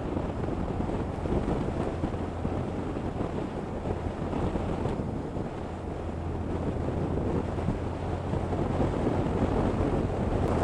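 Steady, heavy wind buffets the microphone throughout, a continuous low rumbling roar with no voices.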